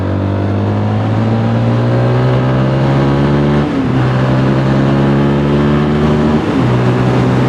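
A 2022 Zontes GK350 motorcycle revs and pulls away on the road, its close, steady engine drone rising in pitch, briefly dipping mid-clip and then climbing again, with no talk over it.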